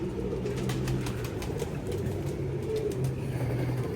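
Teddy pigeons coo in soft, low repeated calls close by, a steady murmur of several birds over faint background noise with no talking.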